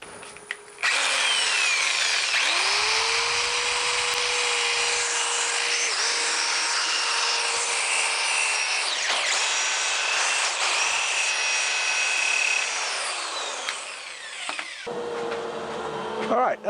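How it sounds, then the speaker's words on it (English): A power sander works a large wooden faceplate, producing a loud, steady abrasive whir that runs for about fourteen seconds before winding down, with a few knocks at the end. "I'm just going to do a little bit of sanding to get some of that surface off there."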